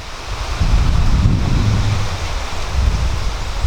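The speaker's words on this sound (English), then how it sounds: "It's nice and breezy right now." Steady breeze gusting across a wide Florida river while kayaking near Bluff Landing, a continuous rough rush of wind buffeting the microphone throughout, with no voices.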